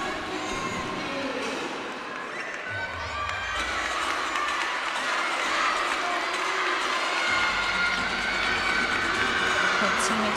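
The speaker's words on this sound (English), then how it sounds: "Her teammates cheering her on." College gymnastics teammates cheer on a floor routine at a meet, steady crowd shouts and cheers filling the arena under a commentator's voice, with a rumbling low layer in the middle.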